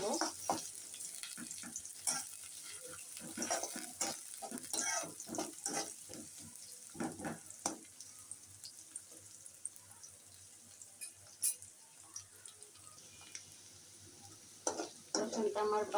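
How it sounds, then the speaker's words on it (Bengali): Chopped garlic and onion fry in hot oil for spinach bhaji, a steady soft sizzle broken by stirring scrapes and clinks, with a voice talking over it now and then. "এখন এগুলো একটু ভাজা ভাজা করে নেব।"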